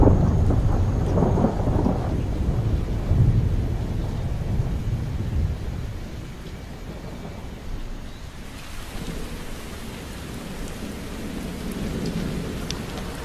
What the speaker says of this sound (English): At the height of the wet season, it rains almost every day